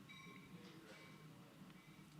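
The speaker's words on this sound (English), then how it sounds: "Should I pause for the train?" A train rumbles past at low level, a steady wash of rail noise with faint tonal squeals throughout, heard from a distance with no talk.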